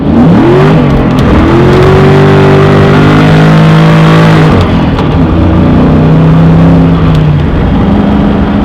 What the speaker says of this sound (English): I'm just going to show you guys these tires not hooking up